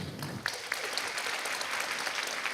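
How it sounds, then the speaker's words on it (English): An audience at a school orchestra pop concert claps for students being called up, steady dense applause with a few sharper claps near the start, alone and without speech. "Feel free to clap as their names are called"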